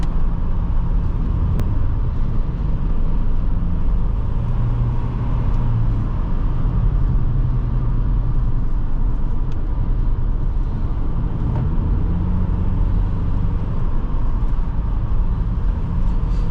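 A 2005 Honda CR-V EX cruising at freeway speed, with a steady, loud cabin drone of engine, tyre and road noise that holds constant throughout, no speech.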